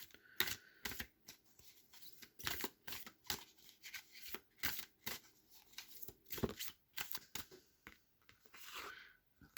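Cards from a Journey of Love tarot deck are handled and drawn, giving a quiet, close series of papery flicks, snaps and shuffles in an irregular rhythm, with no talk.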